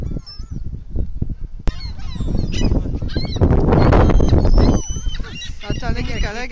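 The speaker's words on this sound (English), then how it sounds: "The seagulls are coming." Seagulls cry loudly and close by, with many harsh overlapping calls that swell into a dense squawking chorus before loose single calls trail on.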